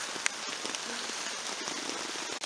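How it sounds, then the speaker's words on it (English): Steady rain pattering on a camping tent and a tarp strung over a stovetop, a dense continuous hiss with scattered louder drops, close by and alone with no talking. "It's raining"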